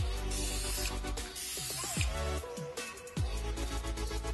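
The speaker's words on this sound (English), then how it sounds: "Kind of want to spray them one more time" An aerosol spray can hisses steadily close by as it coats car tail lights with tint, with a few brief pauses and can rattles mixed into the spray.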